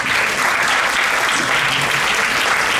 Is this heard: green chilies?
no